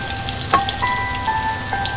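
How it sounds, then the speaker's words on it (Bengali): Fish roe fritters frying in hot oil, making a soft, steady sizzle with scattered faint pops and crackles, heard close and alone. "তেলটা প্রায় গরম হয়ে গেছে, এবার মাছের ডিমের বড়াগুলো দিয়ে দেবো একটা একটা করে।"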